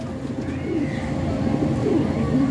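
Pigeons in a loft coo softly and repeatedly, low rolling calls close by over a steady background hum.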